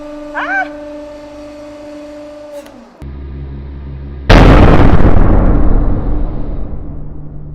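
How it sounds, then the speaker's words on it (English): A hardened steel press tool breaks under a 150 ton hydraulic press while crushing an 80mm ball bearing, a sudden loud crack followed by a long ringing, decaying metallic roar, after a steady motor hum. "Turns out that our hardened steel press tool broke."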